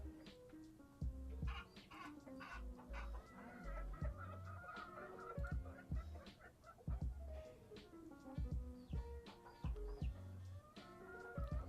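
Big Cluck, an oversized chicken in the EOA game, clucks in repeated uneven bursts among low game thuds and background sounds, with no speech.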